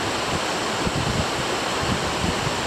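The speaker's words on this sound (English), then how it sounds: "It's been a little windy today, it's not that warm." Steady outdoor wind at a cabin, rushing and buffeting the microphone, a continuous broadband roar with low gusty rumbles, no voices.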